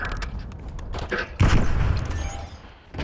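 AS VAL Icebite fire in Black Ops 6 comes as a string of quick, sharp shots followed by a heavier boom. The bursts are loud and close, with faint game ambience underneath.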